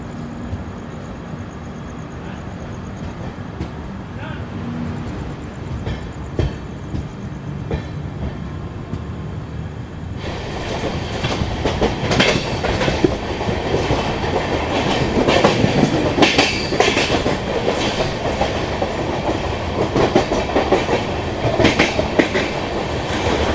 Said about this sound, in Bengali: ট্রেন আমাদের ছেড়ে দিল দুর্গাপুর